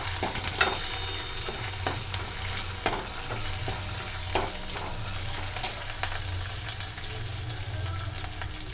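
Crushed chili, garlic, cumin and turmeric crackling in hot oil for Maharashtrian pithla, a continuous close sizzle broken by regular spoon scrapes and taps against the pan.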